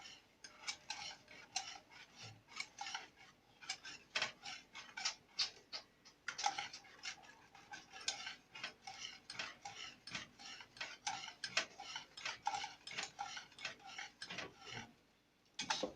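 A metal whisk beats a thickening starch and cheese mixture in a pot, giving fast rhythmic ticking and clinking strokes that run continuously and fairly close, with brief pauses and no talk.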